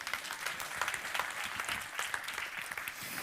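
A church congregation applauds at a sermon, a steady crackle of many hands clapping at moderate distance, sustained evenly throughout.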